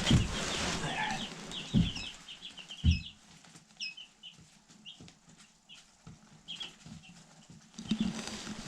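Five-day-old baby chickens cheep and cluck in quick bursts of high, faint peeps, mixed with soft wing flapping and shuffling, moderately close in a quiet setting.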